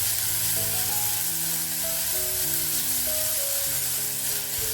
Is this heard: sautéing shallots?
yes